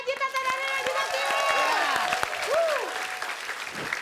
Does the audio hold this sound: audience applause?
yes